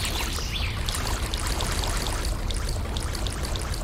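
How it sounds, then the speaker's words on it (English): Fast-moving river water rushing over rapids in a video game, a dense, continuous splashing roar with no voices. "Look at how fast the water moves over there. Spots where the water moves really fast are called rapids."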